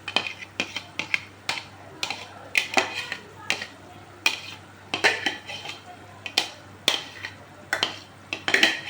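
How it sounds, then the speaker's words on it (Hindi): Chopped tomatoes going into a hot pan on a gas stove and being stirred for turai sabji, with repeated clinks and scrapes of a metal spoon against the pan in uneven bursts, close up. "टमाटर मैं डाल रही हूँ।"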